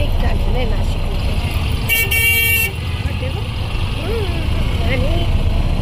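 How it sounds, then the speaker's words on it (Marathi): Traffic on a Nashik road: a single long, loud car horn blares over a steady engine and road hum, with people talking nearby. "तिथे पहा, तिथे ट्रॅफिक ट्रॅफिक ट्रॅफिक झालेलं आहे नाशिकमध्ये."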